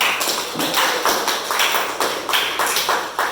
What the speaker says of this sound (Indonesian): Aplaus untuk Nisa.